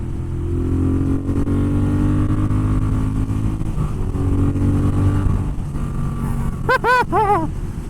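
A Moto Guzzi Griso 1100 motorcycle accelerates onto a highway, its engine a steady, loud low drone with rising pitch, a brief gear change midway, and wind rush throughout.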